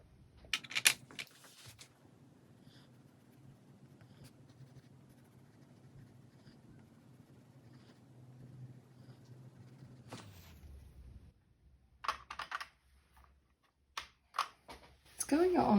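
A Koh-i-noor Progresso woodless colored pencil scratches softly across paper in faint, close, steady strokes. A few sharper clicks and rustles come near the end.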